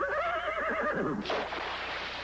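A horse gives a loud, wavering whinny up close in a Miller Lite beer commercial, followed by a burst of splashing or rushing noise as the call ends.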